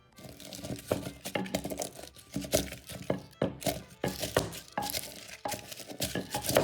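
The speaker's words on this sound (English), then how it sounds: "So let me start smashing this." About a tablespoon of coarse sea salt being smashed for a corned beef and cabbage rub, giving repeated loud crunching thunks and gritty cracks in an uneven rhythm, close up.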